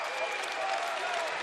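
At the ICCU Arena in Moscow, Idaho, a college basketball crowd at a Montana vs Idaho men's game applauds and cheers in a dense, steady roar of clapping that fills the whole arena, heard at a moderate distance.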